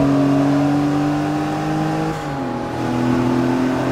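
A race car engine in Forza Motorsport 3 drones loudly and steadily as it accelerates, its tone shifting briefly as gears change before the pitch climbs again, with no talking.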